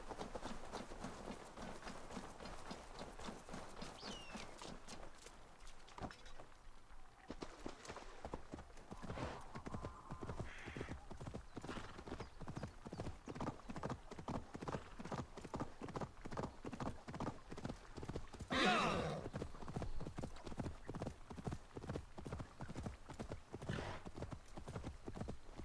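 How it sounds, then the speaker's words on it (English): Horse hooves clip-clop at a steady gallop in Assassin's Creed Valhalla, a continuous rapid drumming that runs throughout, with an occasional whinny and faint talk. "The horse is acting weird."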